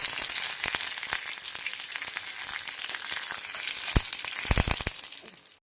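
Curry leaves and dried chilli hit hot oil for a Kerala mango pulissery tempering, producing a loud, close crackling sizzle with sharp pops that intensifies near the end before cutting off abruptly.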